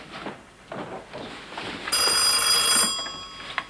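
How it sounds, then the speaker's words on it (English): An old bell telephone rings indoors, a bright metallic trill that starts partway through and lasts about a second, following quieter background sounds. "Ruth Ellen, would you get the phone"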